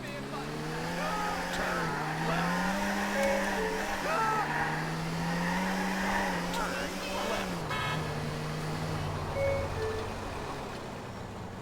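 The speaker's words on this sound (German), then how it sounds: "Der Motor geht durch." A car engine racing in Grand Theft Auto IV, a steady loud revving drone that rises and falls in pitch, with someone talking over it.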